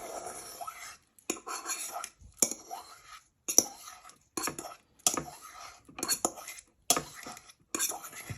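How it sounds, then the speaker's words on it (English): Mashed potato being stirred into a prawn filling in a bowl, with a spoon scraping and clinking against the bowl in repeated short bursts separated by brief pauses, close and fairly quiet. "Now you want to start stirring your mashed potato in with all your filling"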